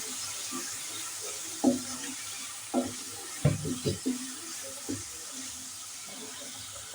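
Spice paste of turmeric, chili powder, coriander powder and salt is stirred and fried in oil for desi chicken, a low sizzle punctuated by several irregular spatula knocks and scrapes on the pan, near and without talk.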